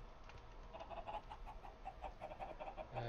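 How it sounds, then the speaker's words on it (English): Minecraft chickens clucking in short repeated bursts over a steady low background hum, moderately loud and continuous throughout. "I've been making and killing chickens a lot there."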